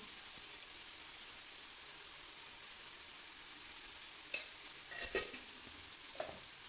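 Onion curry with turmeric sits sizzling in a pan, a steady bright hiss that holds throughout, with a few brief scraping stirs near the end.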